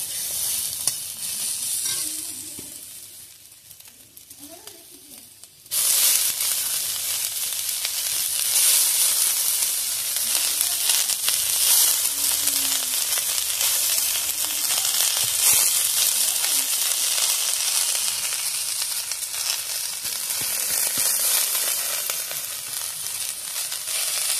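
Onion and gira saag greens fry in a pan, a soft sizzle that jumps to a loud, steady hiss once the greens go in, with faint stirring scrapes running underneath.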